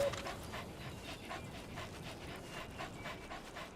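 A companion dog in the Metal Gear Solid V video game pants steadily in quick, even breaths, heard fairly softly and close over a few seconds with no talking.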